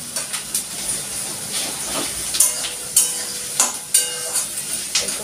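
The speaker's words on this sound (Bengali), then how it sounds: "একটু ভাজা হোক" Chopped garlic frying in a pan for chicken chow mein, with a steady hiss of hot oil punctuated by repeated short scraping strokes of a spatula.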